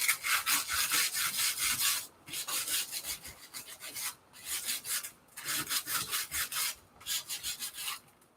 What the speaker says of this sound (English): My sandpaper here.